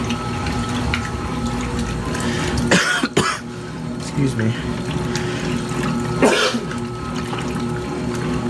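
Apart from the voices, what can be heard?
water running from faucet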